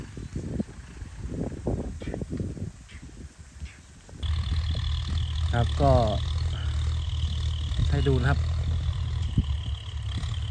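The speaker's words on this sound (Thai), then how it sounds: "เดินเครื่องเบาๆนะครับเสียงนิ่มๆเลยเสียงแน่นๆเลยครับเครื่องนิ่มมาก" A rebuilt 6610 tractor with a round injection pump and an enlarged intake idles gently, its steady low diesel rumble starting abruptly partway in and continuing evenly, with someone talking over it.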